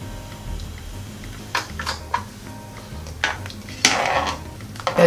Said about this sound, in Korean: 다시마는 먼저 건져주세요